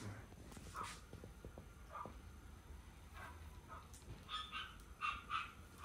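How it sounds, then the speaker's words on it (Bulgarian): A dog barks several times at a distance, short sharp yaps scattered through a quiet indoor scene, with faint household noise and no speech. "Е пак кучето."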